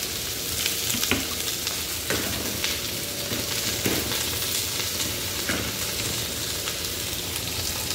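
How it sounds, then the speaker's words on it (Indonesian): Garlic and onions sautéing in a pan, a continuous close sizzle punctuated by scraping stirs every second or so, with no talk over it. "Tumis dulu bawangnya, bawang putih sama bawang bombaynya."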